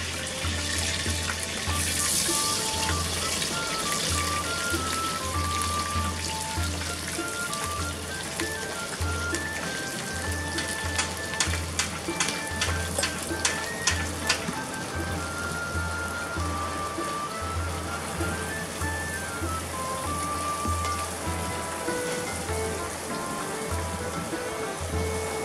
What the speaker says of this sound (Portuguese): Com a manteiga não totalmente derretida, nós vamos colocar a cebola.